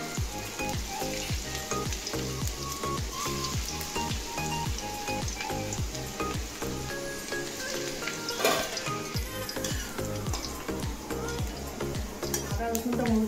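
Chopped ginger sizzles steadily in hot oil over a low gas flame while soya chilli is cooked, a continuous close frying hiss running under rhythmic background music.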